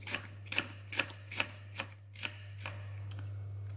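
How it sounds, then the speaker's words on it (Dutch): A small knife cuts shallots into fine pieces on a board, seven or eight regular, crisp chopping taps that grow softer, over a steady low hum. "We snijden onze echalotjes in stukjes."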